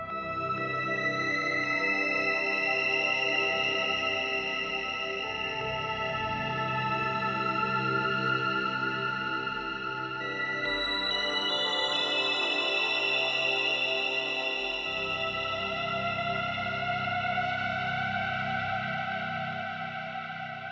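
A GForce Halogen FM software synth plays an atmospheric patch: sustained, layered FM pads with drifting bright overtones and a wash of echo and reverb, shifting chords across about twenty seconds without any speech.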